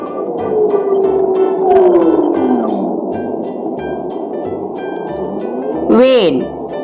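A whale gives long, close, sliding moans and groans, with a rising cry near the end, over a rhythmic background beat. A voice speaks briefly during the calls.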